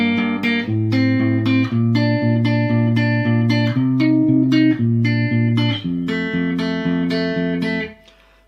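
Acoustic guitar picks the intro of a song, a steady run of bright plucked notes over ringing bass strings, close and clear, fading out on a final sustained chord.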